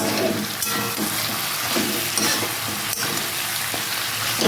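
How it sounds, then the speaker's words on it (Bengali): Coriander and cumin powder stirred into fish-head and spinach frying in a pan, giving a steady, close sizzle with soft scraping strokes of the spoon throughout. "এবারে দেবো ধনে গুঁড়ো এক চামচ আর জিরে গুঁড়োর পাউডার এক চামচ দিয়ে আবারও ভালো করে আমি এটা মিক্স করে নেব"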